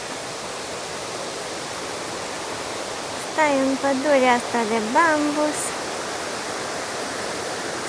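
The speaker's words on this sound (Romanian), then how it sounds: "Se aude râul." A river flows through a bamboo forest near Chiang Mai, Thailand, as a steady, full rushing wash of water, while a person speaks briefly over it.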